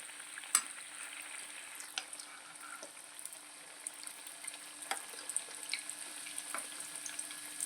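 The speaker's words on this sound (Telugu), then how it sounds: "ఇలా టూ సైడ్స్ ఫ్రై చేస్తూ ఉండాలి" Bread tikka pieces fry in a pan and get turned to cook both sides, a faint continuous sizzle broken by occasional sharp clicks and taps of a utensil against the pan.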